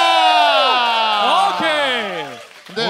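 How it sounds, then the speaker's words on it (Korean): A Korean studio audience at a live talk-show taping cheers and shouts together, a loud burst of overlapping whoops and yells that rises, wavers and trails off over a few seconds, close and dense. "함성 한번 몰아주세요."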